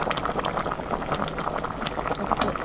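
A pot of Thai bamboo shoot curry at a rolling boil, close and continuous bubbling and gurgling liquid with no pauses.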